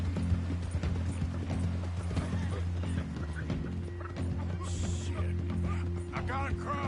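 Horse hooves clip-clopping at a steady walking rhythm while riding in Red Dead Redemption 2, moderately near over a constant low game ambience, with faint bird calls.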